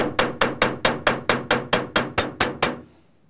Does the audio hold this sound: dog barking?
no